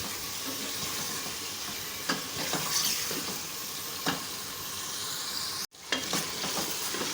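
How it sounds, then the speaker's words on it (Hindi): Chicken frying with spices in a pan, a dense steady sizzle with a few stirring clanks and one abrupt break near the end, no talking. "और साथ ही डाल दें चिकन। चिकन को अच्छी तरह से भुने तमाम चीज़ों के साथ।"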